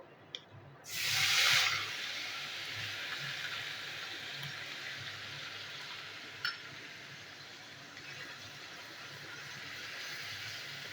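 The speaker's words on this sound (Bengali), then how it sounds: "তো পেঁয়াজটা আমি আগে ভাজবো।" Onion and garlic paste hits a hot pan and bursts into a loud sizzle, then settles into a steady, fairly soft frying hiss.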